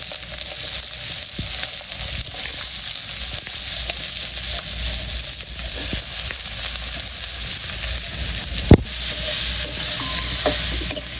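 Meat fries with onions in a village kitchen pan, giving a steady, loud, close sizzle and crackle throughout, with occasional scrapes and a single sharp knock of a stirring utensil.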